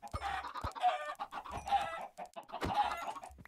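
Several Minecraft chickens cluck in three close, loud bursts of short, choppy calls, with brief pauses between them.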